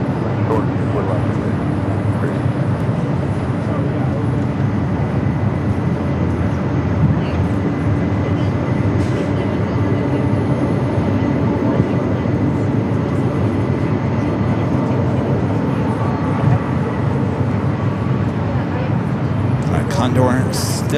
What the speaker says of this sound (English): We do have Condor taking off there on the south side as well